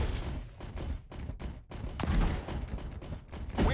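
Toy gunfire comes in a dense burst of sharp, crackling pops and thuds, loud and close, rising and falling in rapid volleys.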